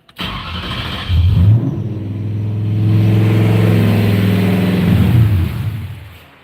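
A 4.6 Savage engine cranks and fires back to life after stalling, then holds a loud, close, steady rev that swells and falls before cutting off near the end.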